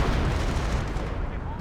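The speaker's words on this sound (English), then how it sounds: "Artillery raining in there" Continuous rumbling artillery barrage in the Company of Heroes strategy game, a dense wash of overlapping booms and blasts running steadily throughout at high intensity, with no distinct individual shots standing out.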